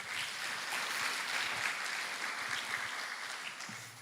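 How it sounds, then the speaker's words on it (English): A crowd claps steadily for a few seconds, a dense patter of many hands at moderate distance, fading slightly toward the end. "So let's clap for Peter once more."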